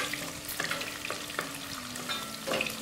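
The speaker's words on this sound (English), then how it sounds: "So we're just gonna saute this for about a minute" Onions sauté in hot oil in a pan, giving a steady, close sizzle with crackles and occasional stirring scrapes throughout.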